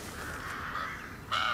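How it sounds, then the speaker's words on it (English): Crows caw in the Alone in the Dark remake, a faint distant call followed by a louder, sharper caw near the end, set against a quiet ambient background. "There go the crows."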